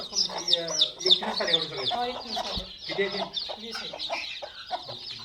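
Chickens at a poultry farm, where young chicks are kept, cluck loudly and continuously in overlapping, rhythmic calls close by.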